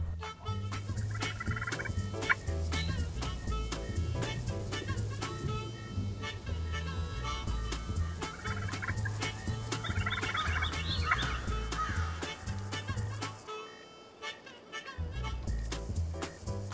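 Wild turkeys gobble during a spring turkey hunt in South Carolina woods, several rattling gobbles rising at intervals over a dense background of birdsong and a steady low rumble.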